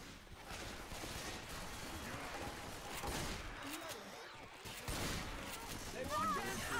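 Video game gunfire crackling as a dense, continuous fusillade at moderate distance, bursts overlapping throughout with no clear pauses.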